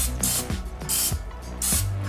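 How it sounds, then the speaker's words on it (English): Cooking spray from a can hisses onto a pan or bowl in three short bursts, close and fairly loud, with brief pauses between them. "I like to spray my pan a little bit, or my bowl"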